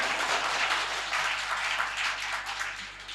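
Audience at a diabetes health talk clapping, a continuous patter of many hands that fades slightly toward the end, with no talking over it.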